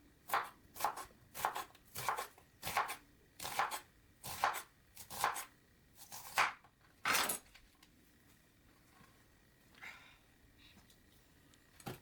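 A knife slices an onion on a board in about ten steady, crisp chops, close and clear, then a few quieter knocks with no talking.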